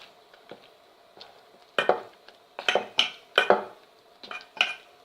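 A spoon scrapes and clinks against a bowl while batter is stirred, irregular bursts of mixing strokes growing busier midway, close and fairly quiet with no voices.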